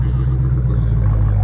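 A 2019 car with a modified exhaust idles close by at a car show, a deep, loud, steady rumble with a throbbing low tone through the short moment.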